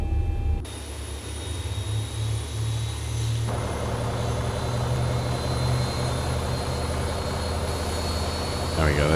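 A simulated Boeing 737 jet engine spools up in X-Plane 11, a steady whine and rumble gradually building in pitch and loudness, with a faint voice talking over it.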